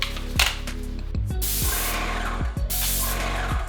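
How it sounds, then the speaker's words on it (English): A paint sprayer applying Sherwin-Williams primer to kitchen cabinet pieces, giving loud, close hissing bursts in quick succession, each trigger pull starting and stopping with a sharp pump thump. "this sprayer was definitely overkill as the power of the spray was causing the piece to swing back and forth"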